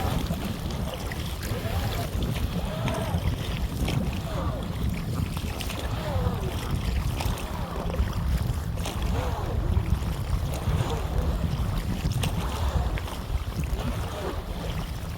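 Boat paddled across open water in wind, steady wind buffeting and water sloshing with soft paddle strokes, with a voice speaking at times.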